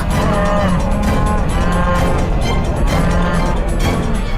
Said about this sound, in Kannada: ಈ ಹಸುಗಳು ಯಾಕೆ ಹೀಗೆ ಕೂಗಾಡ್ತಿವೆ?